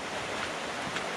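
The river in Lydford Gorge on Dartmoor rushes with a deep, steady roar, a dense broadband wash of churning water that stays constant and close throughout, with no voices.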